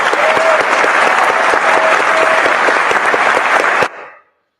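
Loud, dense applause from many hands, close and continuous with a faint tonal note running beneath it, then cutting off abruptly near the end and leaving a brief fading tail.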